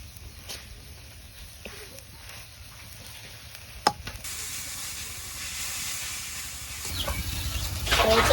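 Jute leaves frying in a pan for pat shak bhaji, giving a steady hissing sizzle throughout, with a sharp clack partway through and the sizzle growing louder and rougher toward the end.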